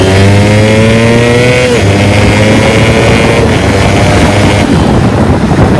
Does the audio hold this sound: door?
no